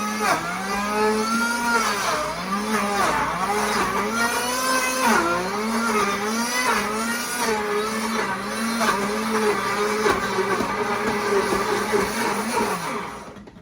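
A small blender grinds chopped zucchini and squash into a puree, a loud continuous motor whine that rises and dips in pitch as the load shifts, running close up for the whole stretch.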